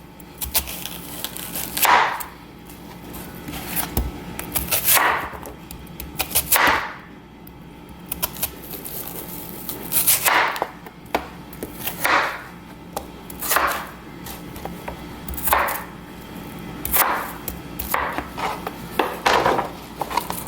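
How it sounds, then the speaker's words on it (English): A knife chops onions on a cutting board in a series of sharp, close strokes that come in short bursts separated by pauses, with no talking. "now I'm gonna go ahead and start cutting up the onions"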